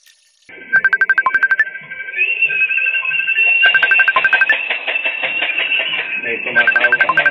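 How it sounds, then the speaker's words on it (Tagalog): A mobile phone rings with an incoming call, a loud repeating electronic ringtone in bursts of rapid beeping pulses over a sustained melodic tone, close and clear. "May tumatawag pa mga kalapatids."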